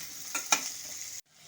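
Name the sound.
garlic, onion and ginger frying in a pan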